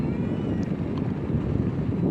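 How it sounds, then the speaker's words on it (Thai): A cold wind blows along the bank of the Mekong river at Nakhon Phanom, a steady soft rumble of gusts buffeting the microphone, moderately quiet and continuous. "ลมหนาวกำลังพัดมาวอยๆนะครับ"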